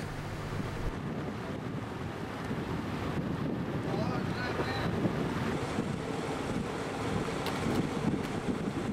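Boat cruising at sea in windy conditions, with steady broadband wind buffeting the microphone over a low hull and water rush, moderately loud and continuous without clear speech.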